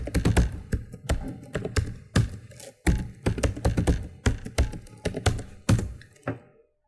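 Fingers type a password on a computer keyboard in a quick, uneven run of close, crisp key taps lasting several seconds, with no voices.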